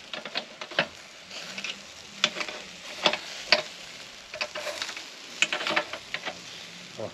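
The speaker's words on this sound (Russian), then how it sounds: "С разных сторон мы его жарим" Steady crackling sizzle of lula kebab on skewers over a charcoal mangal grill, with scattered sharp pops and ticks throughout, fairly close and continuous.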